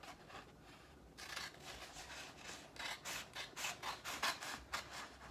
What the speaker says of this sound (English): I'm actually about to cut these two apart first to make it a little easier on myself